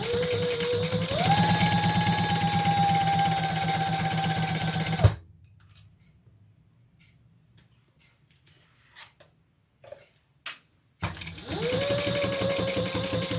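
A sewing machine stitching a handbag runs in a loud steady whirr for about five seconds, stops for a stretch of quiet with small handling clicks, then starts up again.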